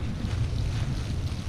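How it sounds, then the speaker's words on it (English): Strong blizzard wind gusting on Brighton Beach, New York, at about 12 degrees, roaring and buffeting the microphone up close in uneven surges. "20-mile-an-hour winds, or 25, something like that. Pretty windy, as you can tell."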